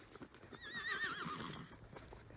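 A horse named Maverick whinnies loudly at a quiet rural pasture, calling for a missing companion, with a single long wavering neigh followed by soft hoof clops nearby.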